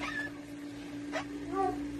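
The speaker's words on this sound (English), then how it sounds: "I'm sorry he's barking. He's a spoiled dog." A spoiled pet dog indoors makes a few short whimpering yips and high whines, close and moderately loud, with no talking.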